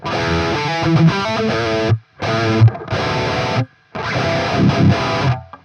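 Electric guitar through a heavy distortion plugin with no noise gate plays loud chords in bursts, with brief silent gaps between phrases and little background noise.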